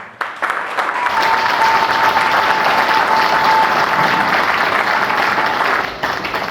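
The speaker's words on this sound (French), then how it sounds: "Je voudrais vous inviter tous ensemble à les applaudir très fortement" A hall audience at a cultural festival of the Koh Ozimé people in Lomié bursts into loud, sustained applause, a dense wash of many hands clapping that holds steady for several seconds before easing slightly.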